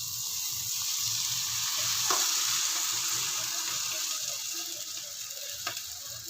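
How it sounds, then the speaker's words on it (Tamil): Rice dough for parboiled-rice kozhukattai sizzles and crackles steadily in a pan, with faint scraping from stirring and an occasional sharp tap, no voices. "இது கொஞ்சம் வதங்கட்டும்."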